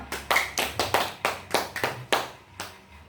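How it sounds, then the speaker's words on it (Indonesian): About a dozen distinct claps ring out at a moderate, slightly uneven pace, like one or a few people clapping in a classroom. "Tepuk tangan untuk Mbak Amel"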